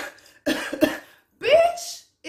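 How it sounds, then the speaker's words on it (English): A person fakes a cough, producing two short, loud coughing bursts with harsh throat sounds, separated by a pause, close and clear. "if that wasn't the fakest goddamn cough"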